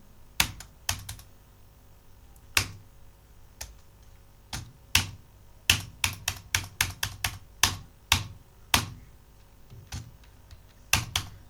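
A computer keyboard is tapped while entering data in TallyPrime accounting software, sharp close keystrokes coming in irregular single clicks and short rapid clusters over a quiet background.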